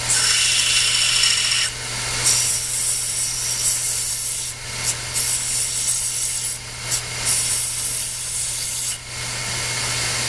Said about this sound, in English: go to the belt sander and round the tips of these off so they'll take a nut